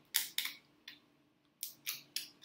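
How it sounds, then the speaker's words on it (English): Sharp scissor snips cutting through king crab and other seafood-boil shells at close range, six crisp separate cuts in an uneven rhythm with quiet pauses between them. "if you see me struggling with the scissors, it's because I'm scared"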